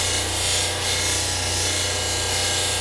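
A grinding wheel, silicon carbide or diamond, cuts into metal or stone with a steady, loud, unbroken grinding rasp that holds close and even throughout.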